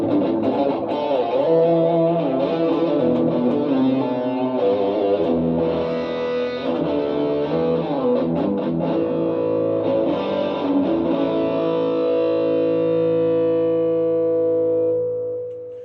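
Electric guitar played through a Rockman unit on its edge setting, a heavily processed, distorted effect, with sustained chords and short runs ringing out, then fading at the end.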